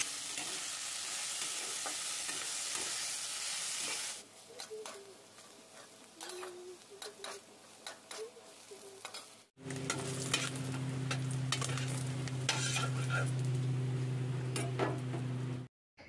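Bitter gourd and potatoes fry in oil in a pan, opening with a loud hiss and then turning to softer sizzling with scraping stir strokes. Faint pigeon coos and a steady hum sit in the background.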